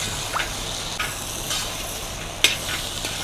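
Pepper powder frying in hot oil is stirred in a pan, with a steady background sizzle broken by several scraping strokes and one sharper knock of the spoon.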